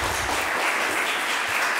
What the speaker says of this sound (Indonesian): kita sekali lagi berikan tepuk tangan untuk finalis kita pada kesempatan kali ini